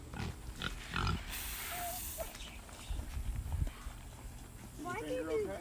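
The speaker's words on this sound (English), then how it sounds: "Chuck, call the pigs up." Farm pigs grunting during evening feeding rounds, a mix of short low grunts under people talking and calling, with a few squeals toward the end.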